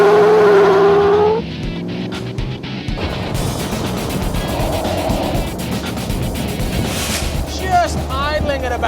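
A junkyard Jeep TJ with a Hemi engine and 40-inch tires spins its tires on a trail, producing loud squealing and engine roar. A voice talks over the start, and the revving and scrabbling continue throughout.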